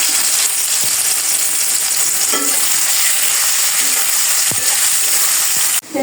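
Crispy sweet potato pieces frying in plenty of oil, a loud continuous close sizzle with a few faint clinks, no voices.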